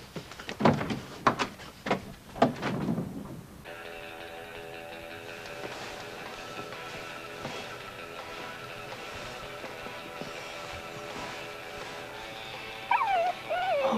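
A dog lets out several sharp yips and whimpers up close in a home, followed by a steadier whining drone with faint background clatter.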